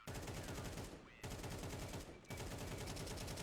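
Rapid automatic gunfire in Counter-Strike crackles in long sustained bursts, loud and dense, with two short pauses between volleys.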